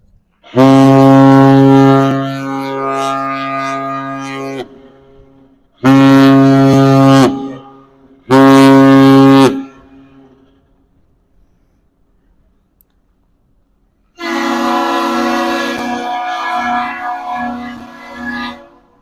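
The freighter Oberstar sounds its deep ship horn in a winter-layup salute: three long blasts, then a shorter one, then a fourth long blast, loud and resonant, with quiet gaps between them.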